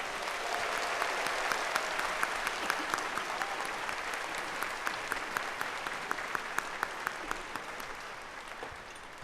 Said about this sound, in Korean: 소중한 공연 만들어주신 모든 출연진분들께 다시 한번 큰 박수를 부탁드립니다